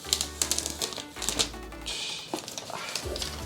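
Plastic wrapping crinkles and tears as it is peeled off an Apple Mac mini M1 box, a run of close, crisp rustles and snaps with a longer tearing stretch midway and no talking.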